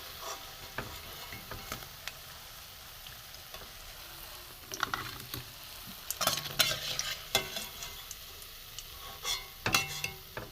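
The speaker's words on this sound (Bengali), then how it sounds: "উল্টা দিলাম, একটু ভাজা ভাজা হোক।" Flattened rice (chira) cutlets fry in hot oil in a pan with a steady soft sizzle, punctuated by sharp scrapes and clinks of a spatula turning them, louder bursts coming in clusters midway and near the end.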